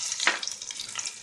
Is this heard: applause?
no